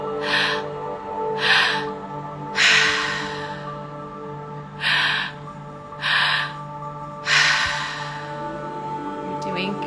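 Deep, rhythmic breaths from people in a guided breathwork session, with about six long inhale-exhale surges at steady intervals over a constant droning music bed.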